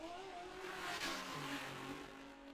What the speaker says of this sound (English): there is a total of 3 cars on track and 2 of them are in the shot at the moment